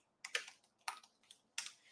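Keystrokes on a computer keyboard come in three short bursts of clicks with pauses between them, fairly close and moderately loud, while someone types a message during an options trading session.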